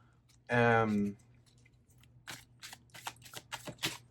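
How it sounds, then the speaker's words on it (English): A deck of tarot cards being shuffled: a run of quick, soft papery clicks and riffles close by, following a brief vocal sound. "I'll just grab like 4 cards overall before I go ahead and shuffle this"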